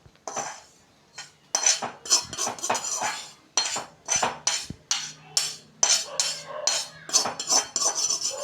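Roasted rava (semolina) scraped from a pan onto a plate, a brisk series of metal spoon scrapes and clinks against cookware, close and fairly loud, in steady bursts with brief pauses.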